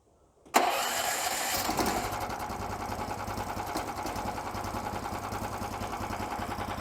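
A SnowDog B420 Sport motor-dog engine catches after a sharp start and settles into a steady, fairly loud running drone that continues to the end, with no talking.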